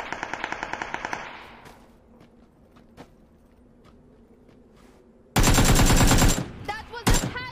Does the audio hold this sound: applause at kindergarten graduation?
no